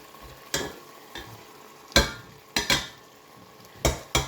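Spices being stirred in a frying pan for a bottle-gourd curry: chili powder, crushed red chili, black pepper and cumin powder, with sharp, separate scraping strokes of a spoon against the pan, close and sizzling, several in a row.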